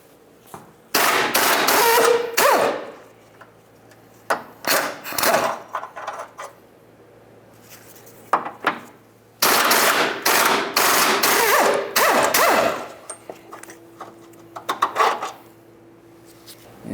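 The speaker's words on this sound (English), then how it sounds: "we're going to come right up front with an 18 millimeter to remove both of these bolts" A wrench loosens 18 mm bolts on the front cross member of a 2009–2020 Dodge Journey, bursts of rapid metallic ratcheting and clanking in two long runs with shorter taps between, close and loud.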